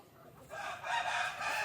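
A rooster crows loudly once at close range, the call rising after a brief quiet start and holding to the end.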